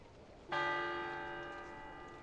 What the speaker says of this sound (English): the station bell tolls